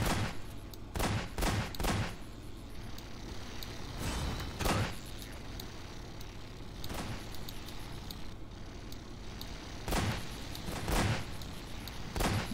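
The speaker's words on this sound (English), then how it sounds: "Everyone's shooting them." Players in Garry's Mod fire on stage actors in a theatre, sharp gunshots cracking out singly and in quick bursts over a steady background hum.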